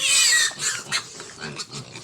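Pigs on a farm squealing and oinking while being fed, a loud high squeal up front followed by several shorter grunts and oinks close by.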